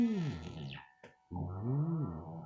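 Ring-modulated sound made with Kyma, a loud warbling, metallic effect with bending pitches that runs for under a second, breaks for a short silence with a brief blip, then returns for about another second.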